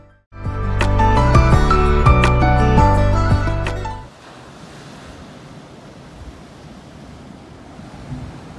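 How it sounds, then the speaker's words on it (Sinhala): Loud, bright tonal music fills the first half, then sea water surging at the Hummanaya blowhole near Hiriketiya, Sri Lanka, continues as a steady, soft broadband wash of surf and wind. "මේ හුම්මානයේ වතුර සද්දය මීටර් 500ක් විතර ඈතට ඇහෙනවා"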